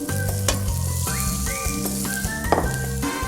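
Onion, celery and carrots frying in oil in a pan for eggplant caponata, a loud continuous sizzle with stirring clatter and a few sharp pops throughout.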